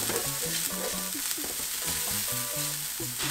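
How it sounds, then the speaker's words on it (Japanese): Chopped onion, carrot and tomato sauté slowly in butter in a pan over low heat, giving a steady soft sizzle with light stirring scrapes, close up and with no speech. "そしたらこちらをバターでソテーしていきます。 焦がす必要はないので弱火でじっくりと炒めます。"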